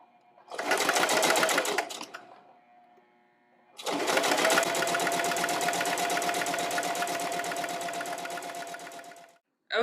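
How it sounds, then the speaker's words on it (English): A sewing machine runs through quilt fabric pieces at a quarter-inch seam in two bursts, a short run and then a longer steady whirring stitch, loud and close, stopping at the end. "put it into my sewing machine at my 1/4 inch, and I'm just going to start sewing"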